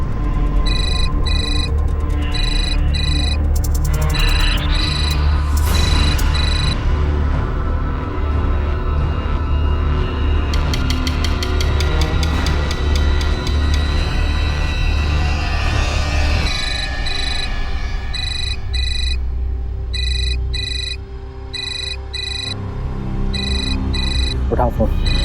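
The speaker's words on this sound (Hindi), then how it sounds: "उठाओ फोन।" A telephone rings in a repeating electronic pattern through a Hindi domestic drama scene, with the rings in bursts at the start and again near the end, under steady talk and background music.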